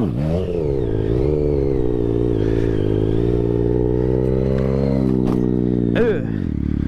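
A Daytona motorcycle revs loud and close as the clutch is let out for a wheelie, its engine drone climbing in pitch and holding steady, with a sharp rise and dip near the end.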